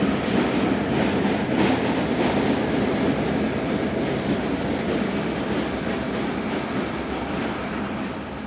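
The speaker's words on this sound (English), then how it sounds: "another yard switcher pulls west with a large string of cars off the Gary Railway" A yard switcher locomotive on the Gary Railway hauls a long string of freight cars west, a loud, continuous rumble and rattle of rolling wheels and cars passing close by.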